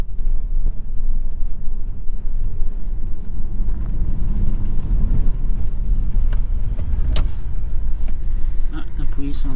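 An electric police car passes on a Paris street, heard as a steady low road and motor rumble that swells slightly around the middle, with voices talking inside a nearby car.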